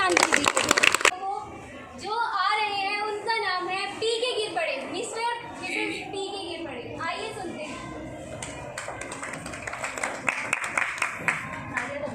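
An audience at a Hindi kavi sammelan gives a brief burst of loud clapping. People then talk at length, and scattered clapping returns faintly beneath their voices near the end.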